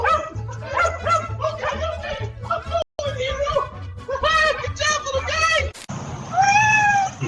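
A dog barks repeatedly in short bursts at a doorstep delivery, with yips and a whimper, while a person talks over it close by.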